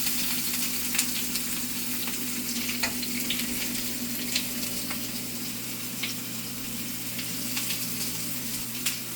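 A bison burger sizzling on a hot cooking surface, a steady dense fry with scattered pops and crackles running continuously at moderate loudness.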